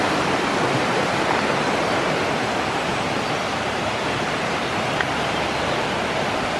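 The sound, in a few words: rain-swollen mountain torrent at the Dordogne source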